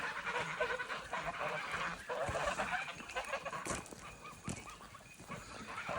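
A flock of farm geese honks in repeated, overlapping calls, fairly faint against a busy outdoor background, with other animal sounds mixed in.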